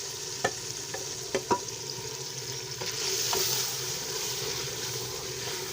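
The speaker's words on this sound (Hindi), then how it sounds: "इसको अच्छी तरह से मिक्स करेंगे और इसको इतना भूनेंगे कि जो घी है वो ऊपर आ जाए" Mashed eggplant bharta being stirred and fried in a ghee-rich masala makes a continuous sizzle, with a few distinct spoon scrapes and clacks against the pan early on.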